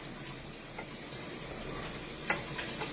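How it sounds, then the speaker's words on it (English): Apples cook down in a pan with a soft, steady sizzle and faint bubbling, broken by a few light stirring or scraping touches, one slightly sharper than the rest. The sound is close but quiet, with no talking. "I'm cooking these apples down till they get soft"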